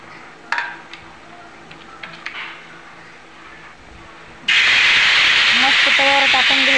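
Rice and urad dal batter for ghavan hits a hot oiled griddle with a sudden loud, continuous hissing sizzle after a few quiet clicks, while someone talks over it.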